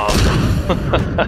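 A bomb goes off in Batman: Arkham Knight with a loud booming blast, followed by three shorter, punchy bursts in quick succession.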